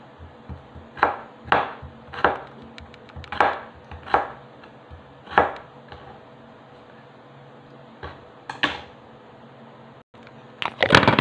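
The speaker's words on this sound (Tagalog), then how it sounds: "sunod ko naman ang hiwain ng bagyu beans" A knife chops Baguio beans on a cutting board while ingredients for pancit are prepared: a series of sharp, close thuds in irregular bursts with pauses between, ending in a quick flurry.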